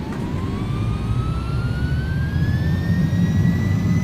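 Airbus A300-600F jet engines in X-Plane 11 spool up toward takeoff power: a steady, loud low roar under a whine that climbs steadily in pitch, continuous and building throughout, with no talking.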